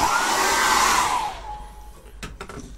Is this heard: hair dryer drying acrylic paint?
yes